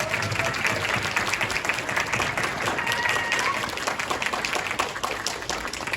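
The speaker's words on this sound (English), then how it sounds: "let's give you guys a round of applause as well too." A convention crowd at an anime event applauds loudly and continuously, dense clapping filling the room with some crowd noise beneath.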